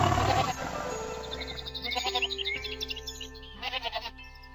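A cartoon goat bleats in an animated story, with a voice speaking at the start followed by several quavering, rhythmic bleats that rise and fall in bursts toward the end.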